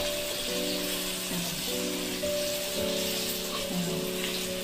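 Bangda mackerel fries in a pan after being flipped, a soft steady sizzle with a hum and faint tonal whine over it, fairly quiet, with no talking.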